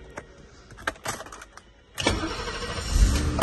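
A few faint clicks and rustles, then the engine of a 1990 BMW 635 CSI automatic cranks on the key and catches, settling into a steady idle at close range.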